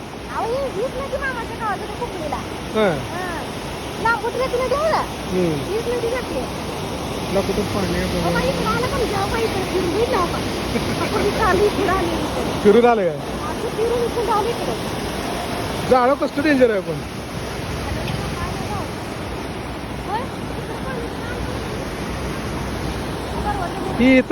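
Rushing water from the Bhogavati river in flood, a steady broad roar running throughout, with people talking over it at moments.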